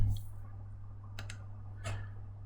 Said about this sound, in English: And I'll click on new.